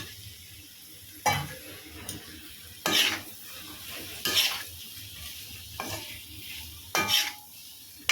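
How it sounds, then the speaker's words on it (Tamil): Peeled baby potatoes stirred in hot oil in a pan, a low steady sizzle broken by several loud scraping, clattering stirs with a metal spoon at irregular intervals, no talking. "இந்த ஸ்டேஜில் நம்ம உரித்து வச்ச உருளைக்கிழங்க சேர்த்துக்கலாம்"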